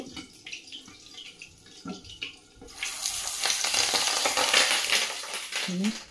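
Fish roe frying in hot oil, turned so each side cooks, starts after a few quiet seconds of light kitchen clatter and grows into a loud, steady sizzle that carries on to the end.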